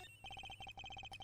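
Telephone in the video game Ace Attorney Investigations ringing with rapid electronic trilling bursts, a quick even pulse that repeats in two groups, faint and alone.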